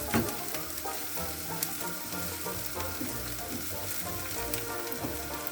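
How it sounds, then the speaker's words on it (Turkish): Chopped onions fry in olive oil in a pan, giving a constant, even sizzle and crackle with faint spitting, close and moderately quiet, with no voices. "Kendi zeytinyağımızda soğanlarımız pembeleşinceye kadar kavuralım."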